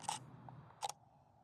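A camera shutter fires twice for bracketed HDR shots, two crisp, close mechanical clicks about three quarters of a second apart in a quiet room.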